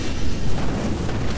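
Cannon fire explosions raining down in Elden Ring PvP, a loud, dense rumble of booms and blasts that fills the short moment without a break.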